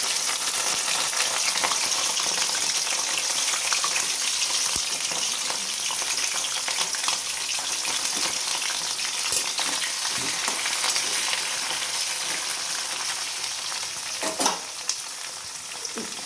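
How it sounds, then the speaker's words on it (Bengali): Onions fry in hot oil in a pan alongside browned potatoes for chicken rasa, a dense, steady sizzle with occasional stirring clinks and no talking. "পেঁয়াজটাও ব্রাউন করে ভেজে নেব"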